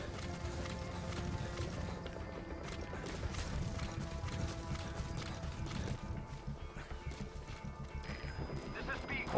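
Hooves clip-clop in a busy, continuous patter as several donkeys trot close by in a video game (Metal Gear Solid 5), with a steady rumble underneath.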